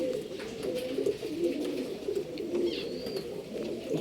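A female Guldar pigeon coos nearby in a soft, repeated low rolling pattern, with faint background noise and a brief higher chirp partway through.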